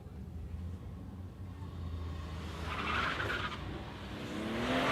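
A small BMW drag car launches hard off the start line at Warwick Dragway, its engine and tyre noise swelling into a rising roar with some squeal, heard at a distance over a steady background rumble.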